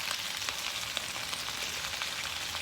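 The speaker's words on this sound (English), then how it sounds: "You hear it sizzling?" Cabbage sizzles in a pot over an outdoor cooking setup, giving a steady, close frying hiss with faint crackles throughout and no talking.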